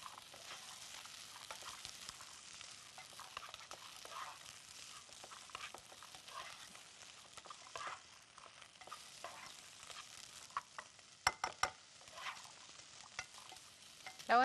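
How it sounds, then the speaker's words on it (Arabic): Onions and peppers fry in a pan for chicken fajita pasta, a soft steady sizzle with occasional stirring scrapes and a few sharp clicks near the end, no talking. "هنا البصل والفلفل بدأوا برضو يخشوا في التسوية بتاعتي"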